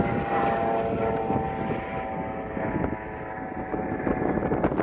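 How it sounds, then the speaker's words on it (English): A helicopter drones overhead at Horseshoe Bend with a throbbing, steady roar, moderately loud against a busy outdoor background. "There's a helicopter."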